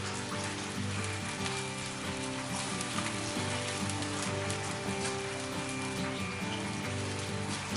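Meyer lemon sauce simmering in a pan over an open fire, a soft steady sizzle and bubbling crackle with a low, faint hum underneath.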